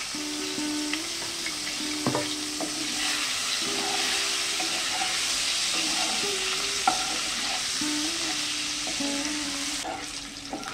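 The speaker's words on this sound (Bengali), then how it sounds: "পনিরগুলোকে খুব বেশি ভাজবো না, হালকা করে ভেজে নেব" Paneer cubes lightly frying in a pan: a steady soft sizzle runs throughout, with intermittent spatula scrapes and clinks as the pieces are turned, close by and without voices.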